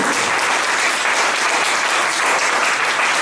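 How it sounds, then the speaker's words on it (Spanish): A church congregation gives a loud round of applause to the Lord, with steady, dense clapping that carries evenly through the whole stretch and has no voices over it. "Denle un aplauso fuerte al Señor."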